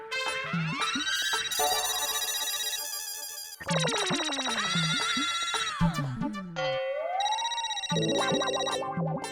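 A phone ringtone plays loudly and continuously, a bright electronic melody repeating in bursts with brief breaks, no voices over it.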